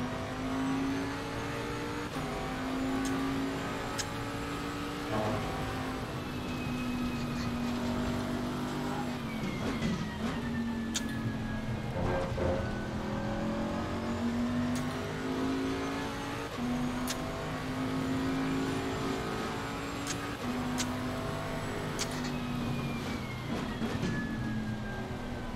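A GT race car in Assetto Corsa Competizione laps Donington in a league race, its engine loud and close, revving and climbing through the gears again and again, with brief lifts and other cars passing.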